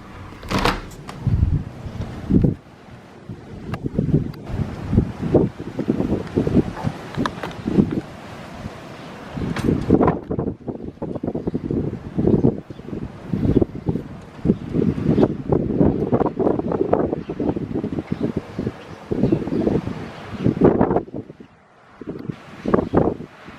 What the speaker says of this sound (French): Intense le vent.